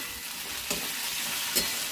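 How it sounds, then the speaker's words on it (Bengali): Fried potatoes with tomato sizzle in a pan with a constant bright hiss, broken by two short scraping strokes of stirring. "আলু ভাজাটাতে একটু টমেটো দিচ্ছি"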